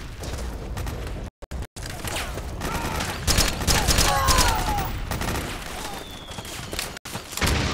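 Sustained fusillade of gunfire in the Metal Gear Solid 4 video game, dense overlapping shots and bursts filling the whole stretch with a couple of brief cutouts, while voices shout over the battle.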